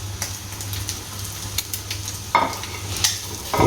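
An egg-coated potato sandwich fries in a pan, giving a close, steady sizzle over a low hum, with a few louder scraping bursts as it is moved.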